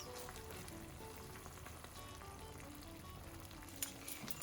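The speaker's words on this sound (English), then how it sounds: "When tomato starts to bubble like that, add the green chilies to it." Tomatoes and green chilies sizzle in a pot of one-pot Mexican-style rice and beans. A steady, close frying hiss crackles throughout, with faint small pops and a brief stir or clink near the end.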